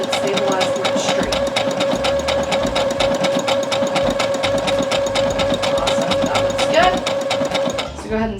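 A sewing machine stitches fabric in a steady, fast, close mechanical whir with a rapid needle rhythm, running unbroken for about eight seconds before slowing to a stop.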